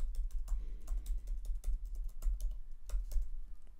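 Rapid typing on a computer keyboard, a steady patter of light key clicks close up with small bursts and pauses, no voices.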